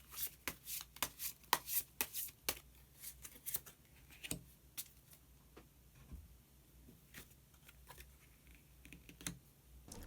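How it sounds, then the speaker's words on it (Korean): Tarot cards shuffled and drawn close by: quiet, irregular papery flicks and taps in short bursts over a hushed background, one last card pulled from the deck. "마지막으로 히든 카드 한 장 더 뽑아보도록 하겠습니다"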